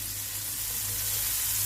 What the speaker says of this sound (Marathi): तवा ठेवून गरम केलेला आहे. आता आपण थोडंसं आधी बटर घालूयात.